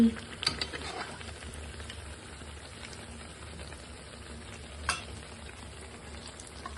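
Begguni, battered eggplant fritters for iftar, frying hot in oil in a kadai, a steady soft sizzle and bubbling with a couple of brief clatters, close and alone.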